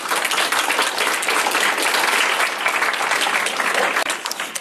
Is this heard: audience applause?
yes